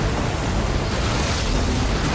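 A huge explosion roars as HK machines enter a town, a loud, dense rumbling blast of broadband noise sustained throughout without pause.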